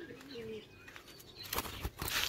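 Birds in a pet bird colony with a dove among them: short chirps and coos up close, then bursts of wing flapping and rustling toward the end, moderately faint overall.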